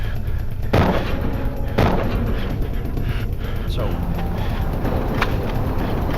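Several sharp gunshots from a shotgun and a revolver crack out during a violent shootout, spaced irregularly over a dense, noisy background of rumble and commotion.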